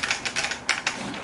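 A heavy old IBM PC XT keyboard being handled, giving a few sharp plastic clacks and rattling knocks in an uneven sequence, close and fairly loud with no speech.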